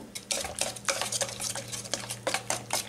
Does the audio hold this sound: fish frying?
yes